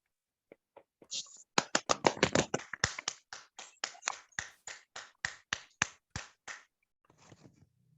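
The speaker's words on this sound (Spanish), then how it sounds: "Nos podemos dar un aplauso final con audio." A small online group claps together at the close of a final integration-work presentation session, producing a run of sharp, close, distinct claps in quick rhythm that thin out and stop, with no talk over them.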